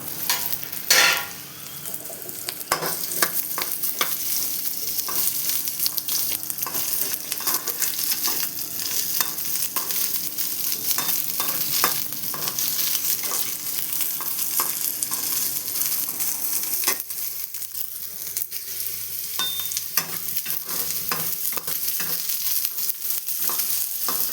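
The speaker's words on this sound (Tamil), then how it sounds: "இதை அப்படியே நம்ம எண்ணெயில் லைட்டாக ஃப்ரை பண்ணி விடலாம்" Jackfruit seeds frying in oil with mustard seeds, a steady close hiss and sizzle with crackling pops and occasional stirring scrapes throughout, changing tone partway as the sizzle settles.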